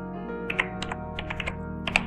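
Keys clatter on a computer keyboard in quick, uneven taps that are close and moderately loud over a low steady background hum, with no one speaking.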